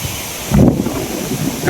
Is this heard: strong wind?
yes